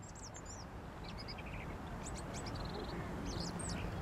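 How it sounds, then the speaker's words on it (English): Mandarin ducks on a park lake give faint, scattered quacks and calls over a steady, loud wash of outdoor background noise. "Brightly coloured Mandarin Ducks are dashing around."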